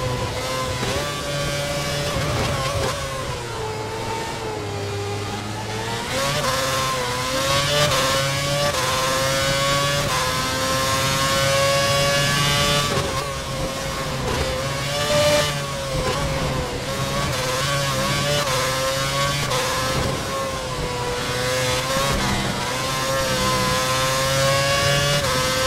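A race car's engine screams at full revs during a club race, rising and falling in pitch through gear changes as it is pushed hard, with a second engine droning underneath.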